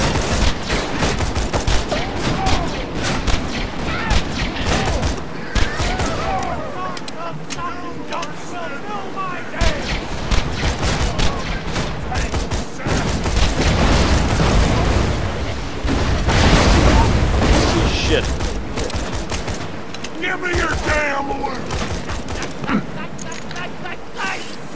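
Heavy gunfire from Borderlands 2, with dense fusillades, rapid automatic bursts and booming blasts layered continuously, loud and chaotic throughout, mixed with game sounds and occasional voices.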